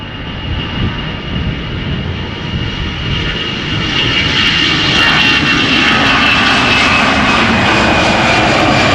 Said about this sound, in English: This is Air Arabia Morocco outbound to Tangier in Morocco,